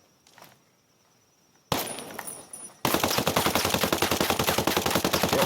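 An AK74 rifle fires in the video game Ghost Recon Breakpoint. A quiet stretch and a short burst come first, then a long, loud, rapid automatic stream of evenly spaced shots, close and dense.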